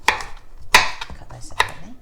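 A knife cuts broccoli diagonally on a cutting board with three sharp, well-spaced chops, crisp and close, and a faint rustle in between.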